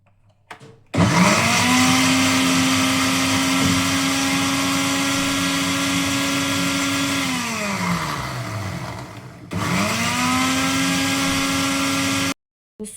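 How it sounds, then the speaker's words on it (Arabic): A kitchen blender whirs through a spiced mixture with water, a loud, close motor whine that holds steady for several seconds, winds down, then starts again for a second burst before stopping. "وهاخد الكلام ده كله وهضربه في الخلاط"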